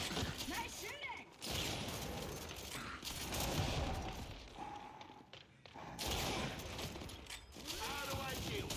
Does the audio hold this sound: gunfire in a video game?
yes